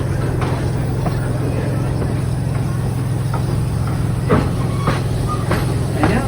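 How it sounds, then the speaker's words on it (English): The Serengeti Express train at Busch Gardens Tampa Bay rolls along with a constant low rumble and occasional clanks and rattles, heard from on board as a continuous ride noise. "our train is now crossing over into our Serengeti belt"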